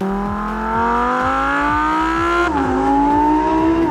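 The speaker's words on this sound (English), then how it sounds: "The engine is as close as physically possible to the rear wheels, along with a very unique Lamborghini sound." Lamborghini Huracan Evo V10 revving hard under acceleration, a loud rising engine wail with a sharp drop at a gearshift partway through, then climbing again, close and prominent.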